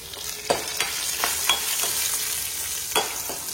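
Dried red chilies fry in a pan with a continuous close sizzle, punctuated by a handful of sharp stirring clicks and scrapes at irregular intervals, no voices.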